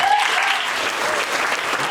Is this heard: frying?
no